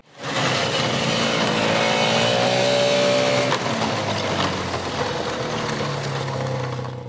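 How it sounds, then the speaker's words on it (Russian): Snowmobile with an evacuation sled, newly added to a regional emergency ministry's vehicle fleet, runs with a loud, steady engine drone up close; the pitch holds and then eases slightly for about seven seconds. "Технічны парк абласнога ўправлення міністэрства па надзвычайных сітуацыях папоўнілі снегаходы."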